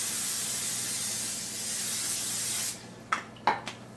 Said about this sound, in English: I'm going to spray my skillet real good with Pam.